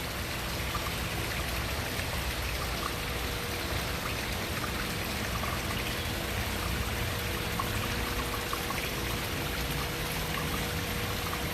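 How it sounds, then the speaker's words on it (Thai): Waterfall in Hawaii, a steady dense roar of falling and splashing water that stays loud and unbroken throughout, with no voices. "น้ำตก"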